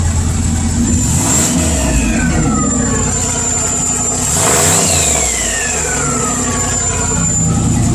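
A turbocharged Pro Mod race car engine revs up twice in strong surges, rising and falling over a steady idling drone, close and loud with no talking.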